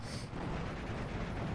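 Cannon fire from a Spitfire's 20mm guns in the Steel Division 2 game, a dense, continuous rumbling barrage of rapid booms that stays loud and steady throughout.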